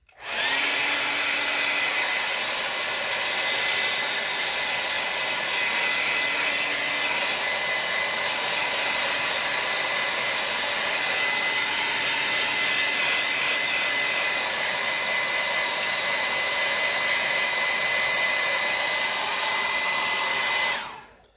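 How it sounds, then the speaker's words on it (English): A hair dryer blows steadily across a beginner's loose watercolor landscape painting to dry the wet paint, a loud, continuous whooshing roar that runs unbroken for about twenty seconds with no talking. "I'm going to do a blow dry real quick."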